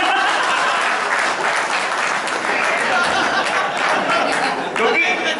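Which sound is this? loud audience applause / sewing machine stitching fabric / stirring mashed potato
loud audience applause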